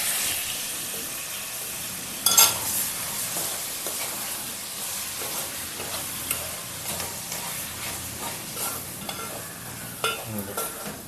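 Chicken and onions being stirred in a frying pan make a close, continuous sizzle and hiss, with a sharp clatter near the start and soft irregular scrapes and taps of the spoon after it.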